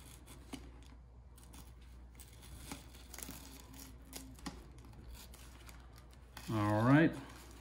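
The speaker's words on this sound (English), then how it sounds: "You can use an X-Acto knife or a scissor, whatever you want, just to cut the coffee filter out." Scissors snip away excess coffee filter paper in a series of faint, sparse clicks and light cuts, close and quiet, before a brief louder crinkle near the end. A voice speaks softly in the background.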